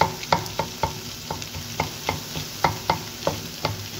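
Fried rice tossed in a pan, brisk regular scraping stirs about three per second over a low sizzle, close and moderately loud with no speech.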